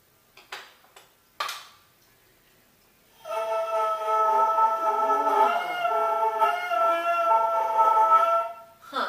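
After a few soft taps and clicks, a bassoon wing joint played alone gives a reedy tone, a wavering, sustained note that bends and buzzes before cutting off.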